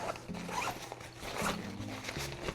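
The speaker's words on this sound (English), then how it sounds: "And let's open this zipper up." Zipper on a travel backpack pulled open in several quick rasping strokes, close and fairly quiet, with faint room noise in the background.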